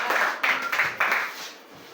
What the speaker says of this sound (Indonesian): berikan tepuk tangan untuk kelompok 2.